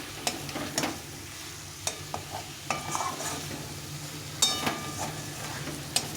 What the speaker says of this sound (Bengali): এটাকে একটু ভালো করে কষিয়ে নিতে হবে কিছুক্ষণ